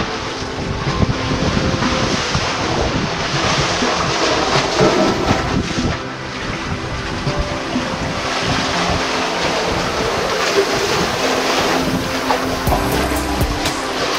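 Ocean waves surge through a rock tunnel leading down to the sea on the Britania Islands, Mindanao, Philippines, a steady loud roaring wash mixed with gusty wind buffeting the microphone, with no talking.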